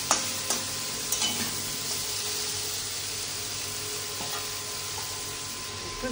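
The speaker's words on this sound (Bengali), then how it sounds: "ভালো করে মিশিয়ে দিচ্ছি।" Fried pointed gourd is stirred into spice masala in a pan, a close, steady sizzle with scraping stir strokes and a few knocks, with no voices.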